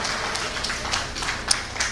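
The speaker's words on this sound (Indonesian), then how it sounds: "Tepuk tangan" A small audience claps on cue during a workplace wellbeing talk, a brief, fairly soft patter of hands with a few sharper claps standing out.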